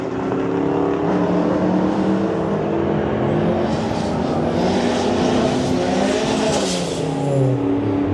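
Street car at a drag racing event at Santa Pod, engine roaring hard through a long burst of wheel spin, loud and continuous with tyre noise rising and shifting.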